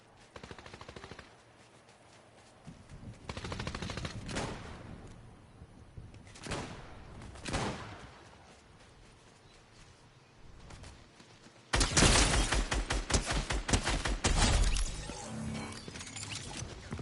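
Pistol fire in Fortnite, with scattered single shots and short bursts in the first part, then a loud, rapid string of shots near the end, all against faint in-game background noise and no speech.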